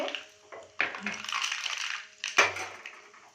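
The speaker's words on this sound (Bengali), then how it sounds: "এবারে আমি এক এক করে ফোড়নে দিয়ে দেব গোটা শস্য" Whole spices such as cumin, fenugreek and dried red chillies dropped into hot oil for tempering eggplant in yogurt curry, giving a few sharp crackling sizzle bursts with small metallic clinks, close and fairly loud, no talk.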